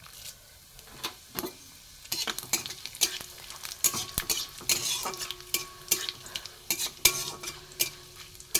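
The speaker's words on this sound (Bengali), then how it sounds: "ফোড়নটা একটু ভাজা ভাজা হোক।" Panch phoron spices with a dried red chilli and bay leaf sizzle in mustard oil, while a spoon scrapes and clinks against the pan in irregular bursts; the sound is fairly quiet and no one talks.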